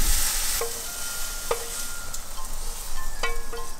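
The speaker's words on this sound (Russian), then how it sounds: "продолжаем жарить шампиньон, пока они поменьше становятся." Button mushrooms (champignons) frying in a pan, with a steady close sizzle and a few sharp scraping stirs of a utensil against the pan; no talk.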